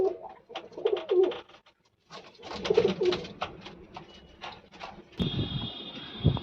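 Pigeons in a loft, including newly added birds, give soft, intermittent coos in short bursts with quiet gaps between, and a brief rattling clatter near the end.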